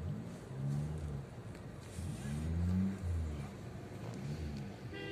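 Cars drive along a narrow single-lane street in Ala-Buka, where vehicles must give way to oncoming traffic. Engine hum rises and falls as vehicles pass close by, with steady road noise throughout.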